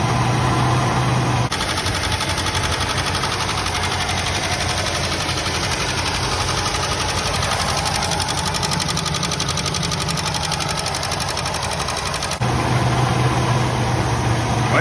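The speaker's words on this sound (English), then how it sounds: "Now I can talk with the motor running." A 1969 Buick Skylark engine, revived after 36 years off the road, idles steadily with an even, rapid mechanical chatter, close and constant, with no talking.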